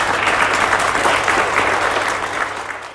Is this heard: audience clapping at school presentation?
yes